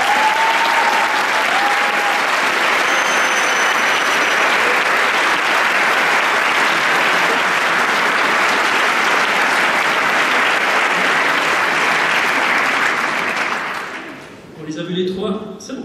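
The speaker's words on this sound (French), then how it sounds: "vous pouvez encourager Clédiane, Enéa et Oran à les applaudissements." Crowd applause at a showband gala concert, dense sustained clapping filling the hall for about fourteen seconds before fading, after which a voice begins speaking.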